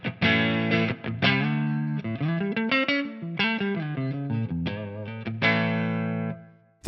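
Electric guitar on the neck pickup played through a Soldano SLO amp capture on a Tonex: a clean-to-slightly-driven melodic phrase of picked notes and sliding lines, loud and close, ending with a brief pickup noise.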